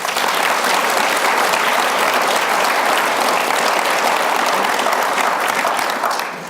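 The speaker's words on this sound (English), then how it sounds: "So please give them a round of applause." An audience at a men's mental health panel event bursts into loud, dense applause for the speakers, sustained clapping from many hands that carries on evenly before tapering off at the end.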